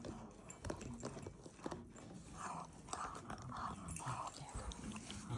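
A bulldog puppy chews on a basket, making repeated close, crunchy biting and gnawing sounds in an uneven rhythm.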